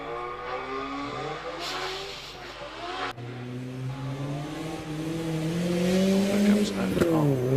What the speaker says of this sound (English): it's his second practice run in the Mazda MX-5